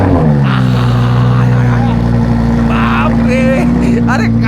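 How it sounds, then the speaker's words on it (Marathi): An original Lamborghini engine running just after a cold start gives a loud, steady, deep drone with layered harmonic tones that shift slightly in pitch. It sounds close and dominant, with faint voices underneath. "अरे काय आवाज आहे गाड्यांचा"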